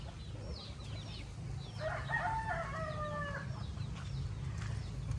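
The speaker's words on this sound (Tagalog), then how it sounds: "itong mga manok naman namin dito, siguro babawasan ko na lang to kasi sobrang dami na nila" A rooster crows once, drawn out and fairly distant, while scattered chicken clucks and chirps sit over a low steady background hum on a farm after a typhoon.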